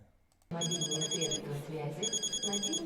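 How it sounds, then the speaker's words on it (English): A mobile phone rings in a theater, a bright repeating electronic ringtone that starts abruptly after a quiet moment and carries on in loud pulsing bursts. "His mobile phone rings"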